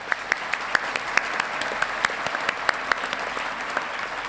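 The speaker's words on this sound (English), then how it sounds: "Let's give them a round of applause." A scattered round of applause for honors graduates at a Colorado State University graduation ceremony, with distinct individual claps ringing out in an uneven rhythm rather than a dense roar.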